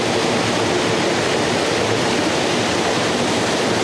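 A waterfall drops into a river pool in a forest, making a steady, dense, close roar of rushing water with no break and no voices.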